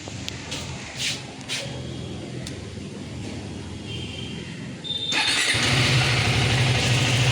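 A few faint clicks and rustles over background noise, then a KTM Enduro R motorcycle engine fires up and runs with a loud, steady buzzing rumble.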